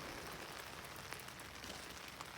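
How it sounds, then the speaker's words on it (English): Rain falling outdoors in Arizona, a soft, faint, even patter with a few scattered drop ticks, heard alone. "So I'm out here and it's raining."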